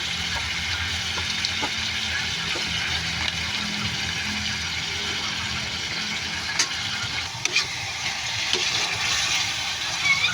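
Lechon paksiw broth boils in a pot with a steady, close bubbling hiss and a few brief clinks, with no talk.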